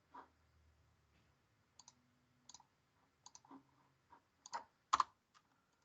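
Computer mouse clicks while running code in VS Code, sparse single and double clicks spread over several seconds, close and quiet, in a faint room hush.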